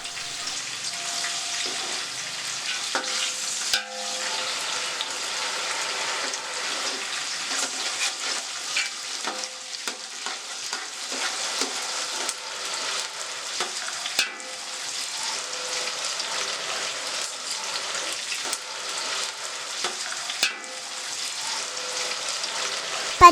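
Green peas tipped into a hot frying pan for an Andhra-style vegetable biryani, giving a steady crackling sizzle that runs throughout, with occasional clinks and stirring scrapes close by and no talk.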